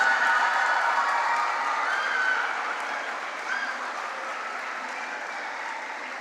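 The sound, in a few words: audience applause at school event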